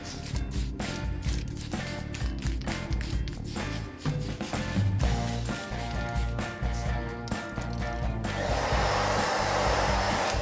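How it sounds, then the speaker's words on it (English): A spray paint rattle can lays a light dust coat on a Venom statue, a close hissing spray broken by short bursts and pauses, continuing steadily throughout. "especially with a rattle can. It's good to just dust coat it first like this."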